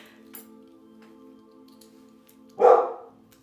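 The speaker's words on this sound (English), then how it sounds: "now the dog's standing outside my door barking" A single short dog bark sounds near the end, following a faint hum in an otherwise quiet room.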